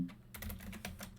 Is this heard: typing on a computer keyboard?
yes